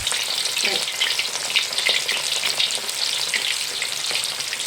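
Cauliflower pieces frying in hot oil for a pickle, a dense continuous sizzle with occasional stirring, close and steady throughout, no voices.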